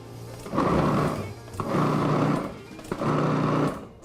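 A food processor pulses mushrooms in three short motor bursts, each a loud whirring roar of about a second separated by brief pauses, close by.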